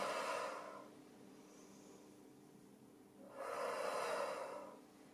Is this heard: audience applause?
no